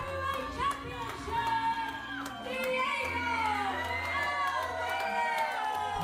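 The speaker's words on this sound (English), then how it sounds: "The crowd is beside themselves." A wrestling crowd roars after a victory in a continuous wash of cheering, whooping and high shouts, with excited voices and a steady low hum underneath.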